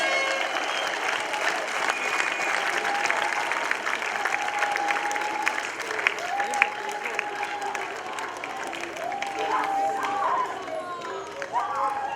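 A church congregation at a Pentecostal gathering claps hands together in praise to Jesus, a steady dense crowd applause with scattered cheers and voices running through it.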